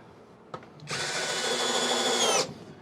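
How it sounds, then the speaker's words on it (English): A power drill drives small drywall screws into a shelf, one steady whirring run of about a second and a half after a couple of light taps, close and alone. "I can put the screws in the middle without very much effort. I'm just using little drywall screws."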